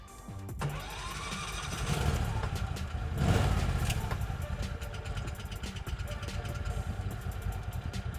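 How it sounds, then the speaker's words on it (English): A Sharmax SHP-880 snowmobile engine fires up and settles into a steady, fairly close idle, its throttle swelling briefly before evening out into a continuous rumble. "At idle, the engine runs nice and quiet"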